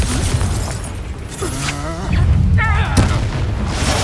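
Confringo spell blast in the Hogwarts Legacy video game, a loud rumbling booming impact amid combat noise, with a voice calling out and shouting over the battle.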